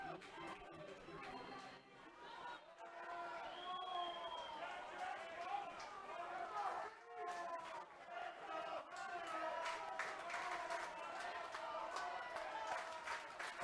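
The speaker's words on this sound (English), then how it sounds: "Crowd chanting, "Let's go Hunters."" A baseball crowd at an Atlantic League championship game chants rhythmically in a big stadium, the voices rising and falling over general crowd noise and chatter, steady and moderately loud throughout.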